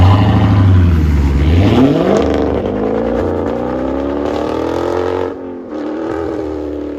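A BMW X3 M with a 3-inch exhaust system runs close to the mic, a deep rumbling engine note that climbs in pitch as it revs, then settles into a steady drone with a brief dip near the end.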